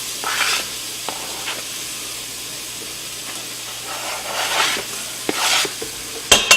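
Onions and shallots sizzling in hot oil in an Instant Pot: a steady close hiss with a few louder bursts of crackle, punctuated by scattered clicks and a clatter near the end.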